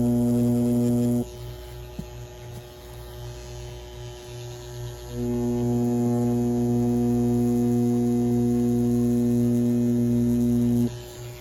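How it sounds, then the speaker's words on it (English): Dragonhawk Mast rotary tattoo machine with a 7 round liner running on practice skin, a steady close electric hum and buzz that drops off briefly, then returns and holds before cutting out, with no talking. "Zoom in here so we can get a real good look at how this Mast Tattoo machine performs"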